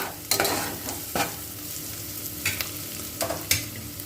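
Cinnamon, clove, cardamom and fennel powder stir-fried in a pan for mushroom biryani, a steady sizzle punctuated by several sharp scraping stirs of a spoon, close and without talk.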